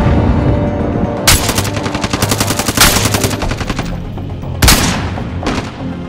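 Loud, close automatic gunfire in Call of Duty: Modern Warfare comes in rapid bursts. Sharp individual shots are broken by short pauses, and a heavy blast near the end cuts through the din.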